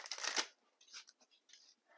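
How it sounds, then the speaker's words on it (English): Tarot cards from the Gilded deck are shuffled in quiet, close bursts of riffling and slapping, with short pauses between handfuls and no talking. "Let's do some shuffling."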